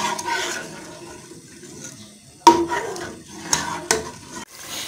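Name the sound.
stir-frying masala gravy in a pan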